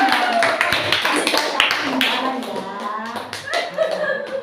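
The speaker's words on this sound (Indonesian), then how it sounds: "Beri tepuk tangan Bu, beri tepuk tangan" A group of people in a school setting claps hands in a brief burst of sharp, scattered claps, mixed with lively talking and a little laughter.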